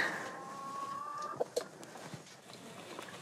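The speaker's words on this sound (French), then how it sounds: "C'est les grandes voyageuses, ces poules." Hens cluck softly in a snowy farmyard, a few short faint calls over a quiet outdoor background with no talk.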